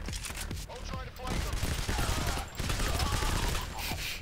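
Gunshots in the video game Payday: The Heist, dense rapid bursts of gunfire layered over other game noise, loud and busy, with a voice speaking over part of it.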